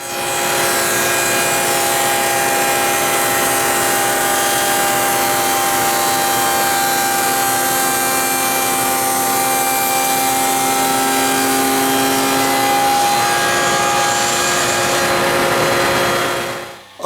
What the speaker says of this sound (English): the dado blade is my blade of choice for this notch, and I'm going to go ahead now and cut that out of there